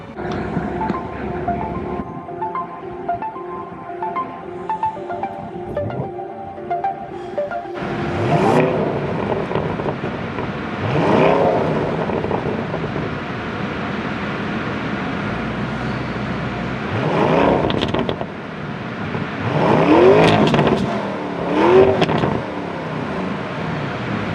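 2020 Lamborghini Urus with a 4.0-litre twin-turbo V8 of 650 hp: a quiet lead-in, then the engine fires with a loud burst and settles to a rumbling idle, followed by several sharp, rising revs near the end.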